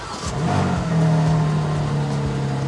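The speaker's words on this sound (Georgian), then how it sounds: "ხერო, ნახე ნამდვილი მანქანა როგორ უნდა იქოქებოდეს?" An old, worn-out car engine fires up and revs, producing a loud, close, rising harmonic drone that holds steady without any talking.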